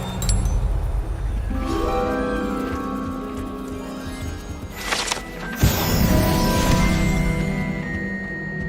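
A Revelio spell cast in Hogwarts Legacy, rising as a layered magical shimmer of chiming, glassy tones with a bright swell midway. The sound is loud and continuous, with no talking.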